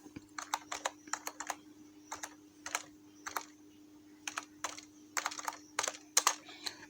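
Keys on a computer keyboard are tapped in short clusters of crisp clicks separated by brief gaps, close and fairly quiet over a low steady hum.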